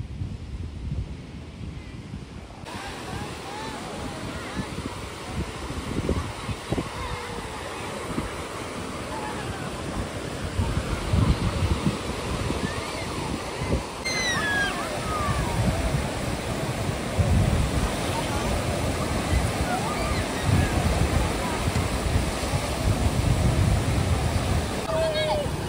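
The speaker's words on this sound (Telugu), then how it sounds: "అలలు అయితే చూడండి ఎంత బాగా వస్తున్నాయో." Ocean waves break and wash continuously on Bapatla beach, a broad rushing surf roar that swells louder toward the end, mixed with wind buffeting the microphone.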